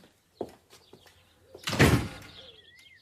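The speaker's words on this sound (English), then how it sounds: "And so another door shut quietly between them." A door shutting quietly in a BBC radio drama adaptation of a Victorian novel, heard as a soft thud and creak in a quiet room, with faint chirping afterward.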